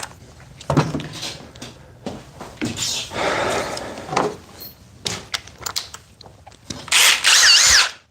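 A DeWalt or Milwaukee power tool drives a 4-inch, 3/8 lag screw in short whirring bursts separated by pauses, close up, with a final sustained high burst of effort.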